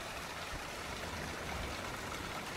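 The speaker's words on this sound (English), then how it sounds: "a small waterfall that falls right from the top of the hill." A small waterfall spilling from the top of a hill in Portugal gives a steady, even rush of falling water, constant throughout with no voices.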